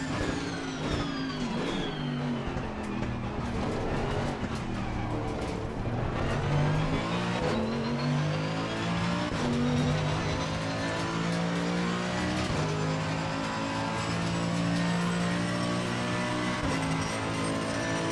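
Mercedes-AMG EVO GT3 race car engine in Assetto Corsa Competizione at Monza, revving hard through the gears with sustained loud acceleration, downshifts and brief tire squeal during a multiplayer race lap, with no talking.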